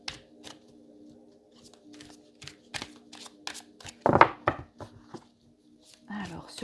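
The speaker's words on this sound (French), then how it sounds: "Je sais pas si tu vois bien quand je mélange les cartes." Tarot cards are shuffled in the hands in a series of crisp, papery riffles and taps, close and fairly quiet, irregular over several seconds, with a voice speaking briefly near the end.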